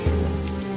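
Rain falls on the roof of a house in need of repair, a steady close patter with a low mechanical hum running underneath, brief and continuous with no voices.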